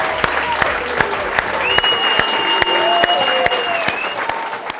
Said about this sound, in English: I think we should give him a round of applause as well.